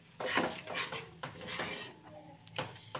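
A utensil scrapes and clatters against a pan while a pea filling mixed with sugar is stirred, producing repeated close, fairly loud metallic stirring strokes.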